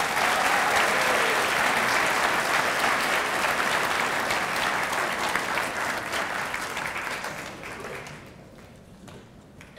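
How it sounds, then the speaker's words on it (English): A convocation audience applauds in a large hall honoring US Air Force service members, dense sustained clapping that stays loud for several seconds before thinning out and fading near the end. "If we could give them another round of applause, please."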